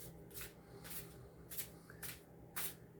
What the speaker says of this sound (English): Now we're going to shuffle this the way it's been taught to be shuffled by Archangel Michael.